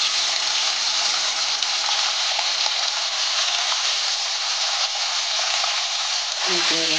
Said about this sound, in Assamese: এতিয়া মই মাছকেইটা অলপ অলপকৈ দি ভাজি ল'ম